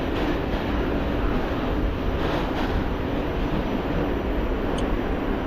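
A simulated A train of the Rockaways line runs toward Far Rockaway in a train simulator game, giving a steady, continuous rumble of rolling wheels and motors throughout, with no voices.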